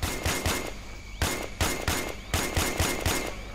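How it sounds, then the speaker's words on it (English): Bursts of automatic gunfire from the Joint Ops: Typhoon Rising co-op shooter, loud and close, several rapid volleys broken by short pauses. "I'm under fire."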